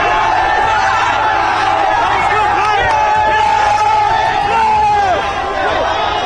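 A crowd of fans mobbing streamer Kai as he steps out of a car, a loud, continuous roar of shouting, whooping and chatter packed close around.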